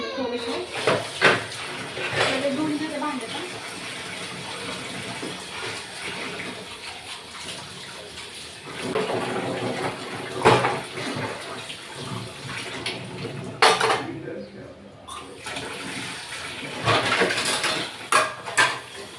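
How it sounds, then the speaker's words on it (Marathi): Dishes, pots and cutlery washed under a running tap in a home kitchen: steady water flow with intermittent clinks and clatters, close by, and voices at times. "भांडे धुवून झाले"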